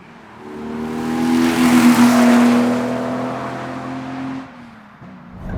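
A 1990 Jaguar XJS HE with a manual V12 engine under way, its smooth droning engine note swelling as it accelerates, holding steady, then easing off, heard loud and close from the car.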